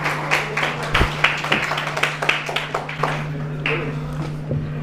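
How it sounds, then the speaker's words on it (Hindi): An audience at a college Constitution Day event gives scattered, uneven applause, with individual claps standing out. The clapping is fairly close and sits over a steady low electrical hum. "तालियां बजती रहनी चाहिए"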